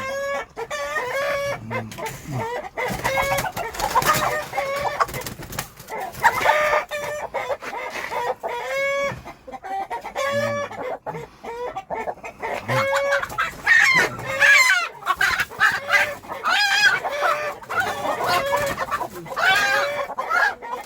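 Chickens cluck and squawk nonstop at close range as they are caught and moved to a new coop at night on a small farm, with an occasional rooster crow amid the busy, agitated chatter.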